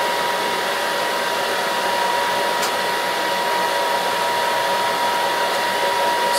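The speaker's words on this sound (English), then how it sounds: "So it's spinning, but the half nut's not engaged." A Monarch 10EE lathe spindle spins with the half nut disengaged, giving a steady, even whirring hum with a faint high whine, running alone without talk.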